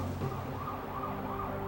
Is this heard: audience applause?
no